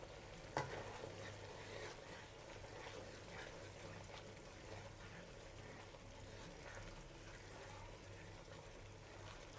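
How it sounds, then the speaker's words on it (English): Beaten eggs poured into a Chinese stir-fry egg sauce while being stirred: a faint, steady soft sizzle and stirring rustle, with one small clink near the start. "Now we'll pour in our eggs and stir while we pour it in."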